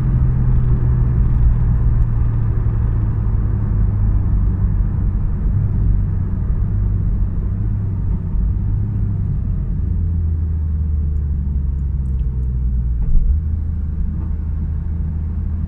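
A 2016 Porsche 911 GT3 RS engine drones steadily from inside the cabin while driving, a loud continuous low rumble with shifting tone and a brief surge near the end, no talking.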